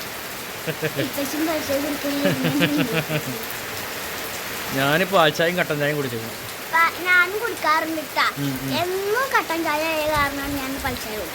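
Steady rain falls outdoors at a family home, a constant hiss beneath a person talking throughout.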